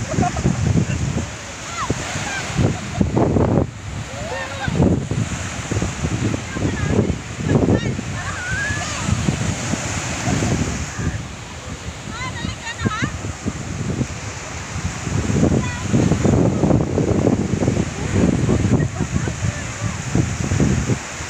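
Surf breaking on a beach at Naic, Cavite, with strong waves crashing and splashing repeatedly under loud wind, while people talk and shout over the water throughout.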